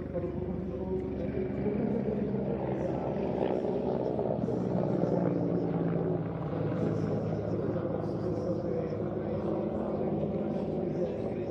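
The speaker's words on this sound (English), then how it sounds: "The last major public appearance in this country of the Czech Air Force Mil Mi-35" A Czech Air Force Mil Mi-35 helicopter drones steadily at an air show, its rotor and turbine noise a sustained mid-distance rumble, with a commentator's voice running over it.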